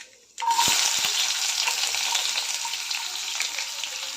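A sudden loud sizzle starts as finely chopped onion hits hot oil with mustard seeds and cumin, then a steady, dense crackling hiss continues throughout with a few soft clinks.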